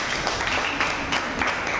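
A classroom audience at a communication-skills session claps together in a dense, unbroken burst that lasts under two seconds.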